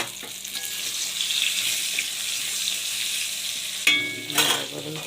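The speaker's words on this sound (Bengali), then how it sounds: "কড়াইয়ের মধ্যে তেল দিয়েছি, দিয়ে কাঁকরোলগুলো একটু ভাজা করে দিয়েছি। তার সাইডে আমি কালো জিরে দিয়ে দিলাম" Pointed gourd and black cumin seeds fry in hot oil in a wok, a steady close crackling sizzle with a burst of louder spitting and stirring near the end.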